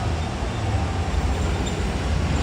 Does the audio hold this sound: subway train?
yes